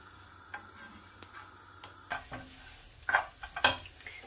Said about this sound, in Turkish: Tavaya atıyoruz. Hafiften kavuracağız.